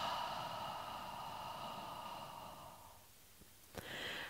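A long, soft, breathy exhale from ujjayi pranayama breathwork, voiced as a gentle ha, holds steady for about three seconds and then fades. A brief sharp intake follows near the end.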